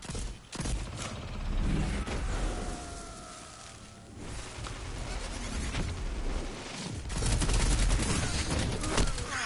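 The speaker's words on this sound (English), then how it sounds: "I can't even shoot this guy with the hand cannon" Gunfire erupts in the video game Destiny, with repeated bursts of shots and weapon noises over a busy in-game soundscape and no clear talking.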